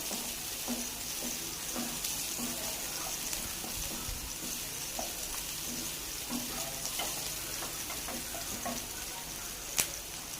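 Onions frying and being stirred in a pan, a quiet, steady sizzle with scattered soft scraping and clinks and one sharp tap near the end, no voices.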